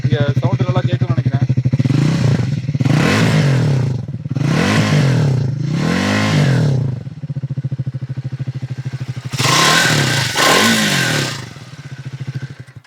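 Triumph Speed 400 motorcycle engine idling nearby, then revved hard four times in a row, each rise and fall distinct, followed by two more loud revs before settling back to a steady idle.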